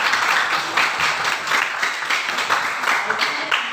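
A group gives steady applause for a presenting group in a classroom or meeting setting, dense continuous clapping throughout at even loudness.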